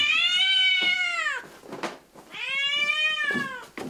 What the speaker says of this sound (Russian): Посмотри, маленький какой котеночек.